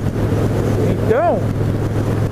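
A Harley-Davidson Dyna motorcycle on the road hums with steady engine drone and wind rush while overtaking on the right; a brief rising-and-falling tone sweeps past midway.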